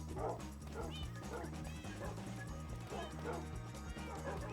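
Dogs in a Minecraft server barking and yipping in quick repeated bursts, with a few whiny rising calls, all layered over continuous game music.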